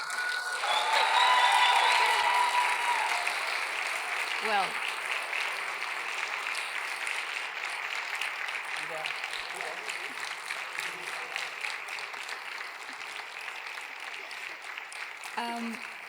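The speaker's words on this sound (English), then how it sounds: "Applause are for you as well." Sustained audience applause at a live album-premiere solo concert, a broad clapping roar swelling at first then holding steady, with occasional voices and a short spoken word near the end.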